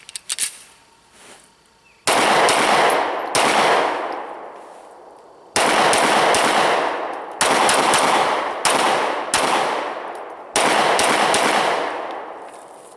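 A Smith & Wesson M&P 9c pistol fires a magazine at a range, sharp loud shots coming singly and in quick bursts with ringing decay between them, about six reports over the stretch.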